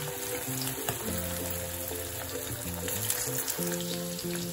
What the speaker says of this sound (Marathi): आता आपले चिकन 65 छान असे बघा तळत आले